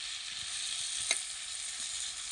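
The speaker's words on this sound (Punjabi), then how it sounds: "ਚਮਚਾ ਫੇਰ ਫੇਰ ਕੇ ਆਪਾਂ ਨੂੰ ਚੰਗੀ ਤਰ੍ਹਾਂ ਝੱਕ ਲਿਆ" Pumpkin cooking with jaggery in a pan gives off a soft, steady sizzle as it is stirred, with one brief scrape of the spoon partway through, faint and close.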